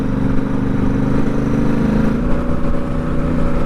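A Royal Enfield Interceptor motorcycle, custom built, runs steadily while being ridden, its engine giving a loud, continuous, even drone with no talking.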